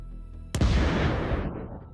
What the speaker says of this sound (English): The explosion sends it crashing into the trees